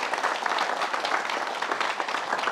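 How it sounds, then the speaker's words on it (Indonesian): A studio audience applauds guest Chan Kelvin on an Indonesian talk show, steady dense clapping filling the room for a few seconds with no voices on top. "Tepuk tangan buat Chan Kelvin"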